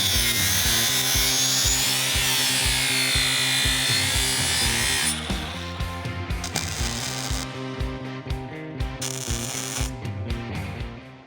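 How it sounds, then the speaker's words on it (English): Power tool grinding a chamfer along steel plate edges ahead of a butt weld, a harsh bright scraping that runs continuously and then breaks into rhythmic strokes and pauses, close and loud. "I'm gonna put a chamfer on all the edges where there's gonna be a butt weld"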